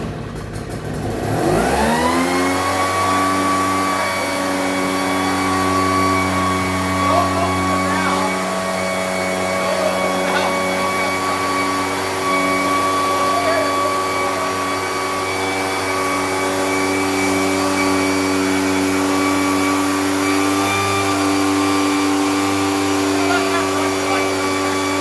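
A small petrol engine starts on choke and settles into a loud, steady running drone that continues at close range, with a person talking over it.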